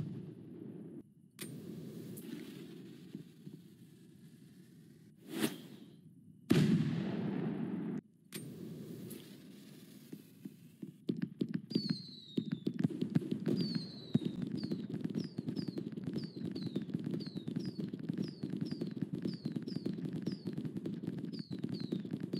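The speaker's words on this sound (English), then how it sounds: "Now I will show you all the fireworks that were made in this update." Halloween update fireworks in the Fireworks Playground video game: sharp isolated bangs and a big blast, then a long stretch of rapid crackling pops with repeated rising whistles, loud and continuous.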